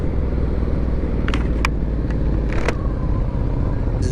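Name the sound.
Yamaha VMAX motorcycle engine revving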